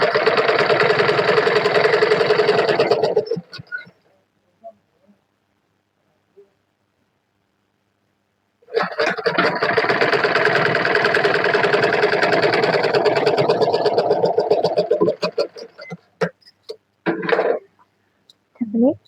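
A sewing machine stitching a double katori blouse, running in two long, loud, close bursts with a pause of near silence between them and a few short stutters at the end.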